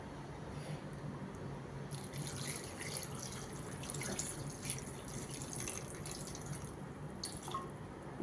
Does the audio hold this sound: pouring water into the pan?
yes